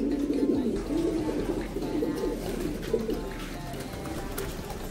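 Pigeons coo steadily in low, throaty rolling phrases, close and continuous from start to finish with no talk over them.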